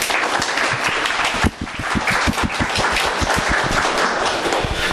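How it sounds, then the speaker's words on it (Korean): Lecture audience applauding at the start of a talk, dense sustained clapping from many hands filling the room, steady and fairly loud throughout. "인사할 때 우리 힘찬 박수 좀 부탁 좀 드리겠습니다"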